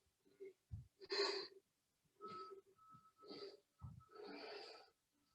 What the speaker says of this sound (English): I hope you guys are breathing heavy like I am.